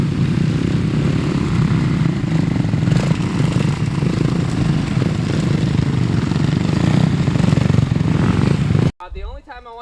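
A dirt bike engine drones steadily and loudly on a motocross track during a training day, its buzz continuous for about nine seconds before cutting off abruptly, leaving only faint background sound.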